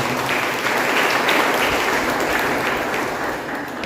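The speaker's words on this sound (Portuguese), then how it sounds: "Quem pode dar uma salva de palmas para Jesus nesta noite?" Dense, steady applause from a congregation fills a church service, a broad wash of many hands clapping together for Jesus, loud and continuous before easing slightly at the end.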